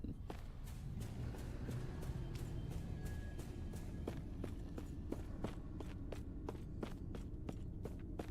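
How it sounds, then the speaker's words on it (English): Footsteps in the video game Last Epoch, a steady, even rhythm of soft, crisp steps repeating across the whole stretch at moderate distance, with no talking. "you can hear the footsteps sound like they're in the area"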